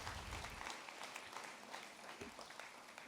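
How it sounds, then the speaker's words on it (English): Audience applause at a death penalty awards ceremony, a dense, steady wash of clapping filling the room from start to finish with no talk over it. "I think you should applaud for that."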